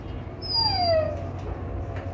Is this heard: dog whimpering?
yes